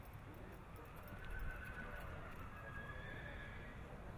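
A horse in a sale ring whinnies and its hooves sound over a constant murmur of crowd noise, with a louder surge near the middle.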